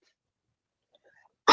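A single sharp sneeze bursts out at the very end after near silence, loud and close.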